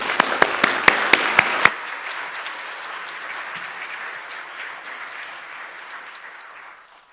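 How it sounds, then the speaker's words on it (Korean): A church congregation at a Sunday service gives a burst of applause to welcome a visiting missionary, opening with a few sharp loud claps before settling into steady, dense clapping that gradually fades out. "우리 큰 박수로 우리 환영하겠습니다"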